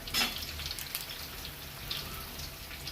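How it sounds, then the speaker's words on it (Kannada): Ridge gourd and vegetables frying in oil for a home-cooked palya, a faint continuous sizzle and crackle with a few soft pops, heard close and alone. "ಎಣ್ಣೆ ಒಳಗೆ ಇದು ಎಣ್ಣೆ ಒಳಗೆ ಫ್ರೈ ಆಗ್ತಿದ್ದಂಗೆ"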